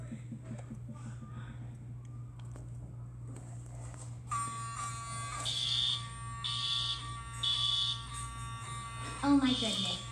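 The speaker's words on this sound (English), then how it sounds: "The fire alarm is going off." A household fire alarm starts up midway with a harsh, steady electronic buzz, pulsing in repeated bursts over a low hum, after faint rustling and quiet talk beforehand.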